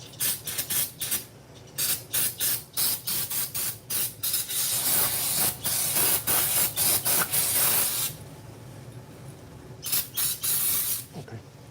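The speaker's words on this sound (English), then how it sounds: "First, I'm gonna clean the caliper with the brake cleaner." Brake cleaner sprays onto a slightly rusted rear brake caliper of a 2003 BMW 525i: a run of short, sharp hissing bursts, then a long continuous blast, then more quick bursts, all loud and close.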